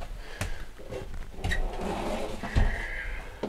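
A large storage drawer under the bed of a DIY 4x4 ambulance overland camper is pulled open with a few knocks and thumps followed by a sliding rumble, close and moderately loud.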